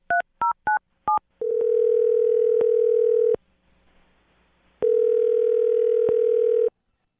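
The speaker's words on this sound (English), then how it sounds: "I'm going to dial him right now, get him on the phone" A quick run of touch-tone dialing beeps, then two long electronic ringing tones separated by a pause, loud and close.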